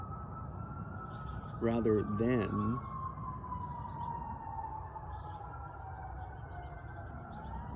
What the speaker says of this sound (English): I got sirens. I'm gonna wait. Oh, there they go. They go away.